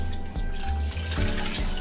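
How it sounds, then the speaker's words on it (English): Tap water runs steadily into a cooking pot holding a chopped chicken breast, the stream pouring continuously close up and fairly loud, with no other sounds on top. "add in enough water to cover the chicken"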